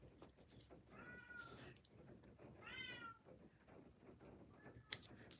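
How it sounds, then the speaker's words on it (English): A house cat meows several times at night, drawn-out calls spaced a second or so apart, fairly close, over a low background hum with a brief knock near the end. "Got a noisy cat"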